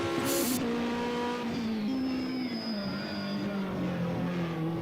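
A race car on the Hauenstein Bergrennen hill climb course accelerates hard, its engine note rising steadily through the gears, loud and continuous, with a brief tire squeal at the start.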